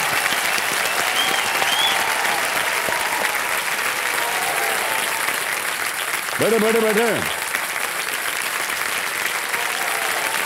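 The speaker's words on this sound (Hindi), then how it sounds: "जोरदार तालियां।" Loud audience applause fills a game-show studio right after a contestant's win, steady broadband clapping throughout, with a host's voice speaking over it and a brief tonal sound partway through.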